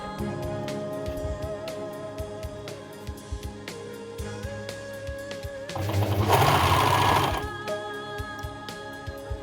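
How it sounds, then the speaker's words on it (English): An overlocker serges the edges of small baby pants made as photography props, a steady whirring stitch with short rhythmic bursts, growing louder and denser for a couple of seconds midway before settling back. "So I overlock the top, and now I have to come down and overlock the other side of the hat."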